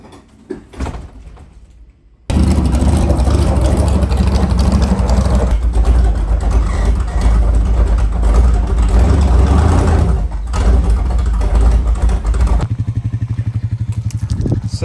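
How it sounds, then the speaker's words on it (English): A USRA Factory Stock race car engine rumbles loudly and steadily at low speed for about ten seconds as the car is driven into a trailer, then cuts back to quieter surroundings. "load the car in the trailer"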